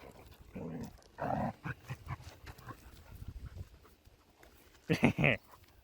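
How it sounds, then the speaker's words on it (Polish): A dog barks and yelps in short bursts outdoors while people talk and laugh nearby, ending in a louder cluster of close barks. "A ty co tak szczekasz, ha?"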